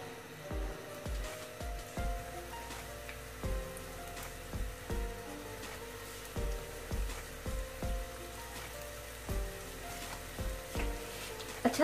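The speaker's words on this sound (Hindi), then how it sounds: "अब इन्हें फ्राई करते हैं। ऑयल गर्म हो चुका है" Cheesy bread rolls sizzling in hot oil, a steady crackling fry with occasional louder bubbling pops and soft clinks of a utensil turning them.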